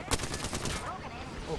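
Rapid automatic gunfire rattles in the video game Apex Legends, a loud, dense burst of shots in close succession that fades into a reverberant tail.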